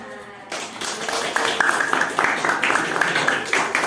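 A classroom of students claps together after a lesson, a dense, steady burst of many hands starting abruptly and continuing with voices mixed in.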